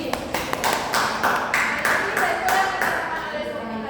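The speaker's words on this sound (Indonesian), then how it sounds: "tepuk tangan untuk Sofi" Classroom applause for a student during a micro-teaching lesson, a steady patter of hand claps running the full length at moderate loudness with a few sharper individual claps standing out.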